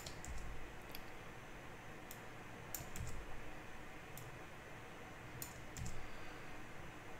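Computer keyboard in use for a copy and paste, a few sparse key clicks and taps spread over several seconds, quiet and close against a low hum, no talking.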